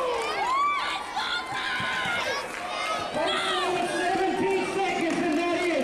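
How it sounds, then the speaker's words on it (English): A wrestling crowd erupts after a 17-second match, with excited shouts, whoops and high cheering voices rising and falling over a constant roar of the arena audience. "Crowd going nuts."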